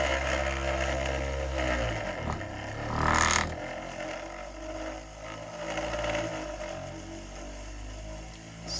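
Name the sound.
3D printed maglev motor spinning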